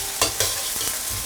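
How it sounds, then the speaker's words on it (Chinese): Dried chilies, Sichuan peppercorns and two star anise fry in a wok as a little water goes in, giving a bright steady sizzle broken by a couple of sharp splashy bursts and stirring scrapes. "等料炒香之后呢，锅里给少许的清水"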